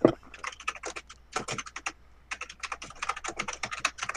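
Rapid bursts of clattering keystrokes on a computer keyboard, close and fairly quiet, typed in quick irregular runs with a short pause midway.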